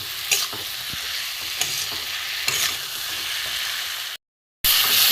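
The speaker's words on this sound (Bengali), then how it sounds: "এবার আমি এই ভেজে রাখা পটল আলু দিয়ে দেবো, এটার সাথে একটু কষে নিই মশলার সাথে।" Fried pointed gourd and potato are stirred into spices in a pan, giving a steady close sizzle with repeated scraping strokes of a spatula, a brief dropout near the end, then the sizzle resumes.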